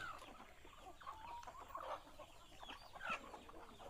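Free-ranging native Thai backyard chickens cluck softly in the distance, with scattered short calls over a quiet outdoor background.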